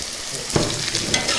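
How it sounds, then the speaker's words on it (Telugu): Chopped carrot pieces hit hot tempering oil with onions for a carrot peanut fry, producing a brief, close crackling sizzle with a few stirring scrapes and no voices. "ముందుగా తరిగి పెట్టుకున్న క్యారెట్ ముక్కల్ని ఇందులో వేసేసుకుందాం"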